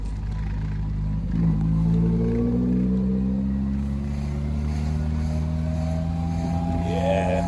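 A Triumph Roadster engine pulls in second gear up a hill, a steady droning hum with slowly rising tones under a light throttle, with steady road and wind noise.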